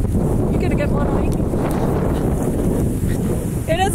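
Strong wind buffets the microphone in a constant roar, with a voice speaking briefly under it near the end.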